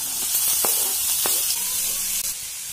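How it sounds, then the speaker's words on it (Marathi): Garlic and chopped kakora (spiny gourd) sizzle steadily in hot oil, a continuous close frying hiss with a few sharp crackles and stirring taps, no voices. "लसूणचा थोडं उग्र वास जाईपर्यंत परतून त्यात आपण ही कापलेली भाजी टाकून घेणार आहोत।"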